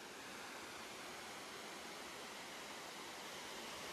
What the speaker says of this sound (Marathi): कॉर्नर साईडनी जरा जास्त जोरात पाणी येतं